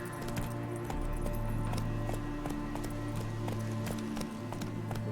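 A horse gallops in The Witcher 3, its steady clip-clop beat running the whole way under layered game music and ambience, fairly close and even in loudness.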